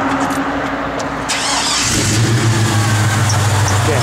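A 1965 Chevrolet C10 pickup's engine catches and settles into a loud, steady idle close by, with a low rumble that firms up partway through and no talking.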